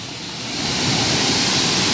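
A large waterfall at a resort in Side, Antalya pours in a loud, broad, continuous rushing roar that swells slightly and then holds steady, with no voices over it.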